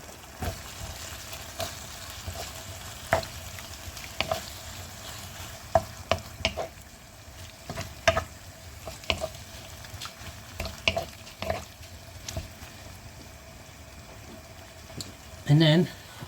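A spoon stirs chicken pie filling with herbs, salt, pepper and stock in a pan, scraping and clinking in an uneven rhythm over a steady sizzle, with a louder clatter near the end and a voice speaking at times.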